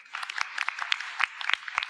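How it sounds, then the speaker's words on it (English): Short burst of scattered clapping from an audience at a civic forum in Tacoma, applauding event sponsors, the claps distinct and moderately close. "We give them a round of applause."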